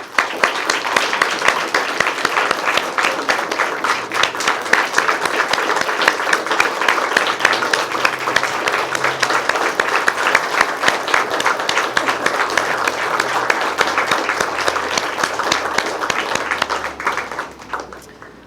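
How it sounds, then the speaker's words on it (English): Sustained applause from a large crowd, dense and steady for the whole stretch, fading slightly right at the end. "please give them a round of applause."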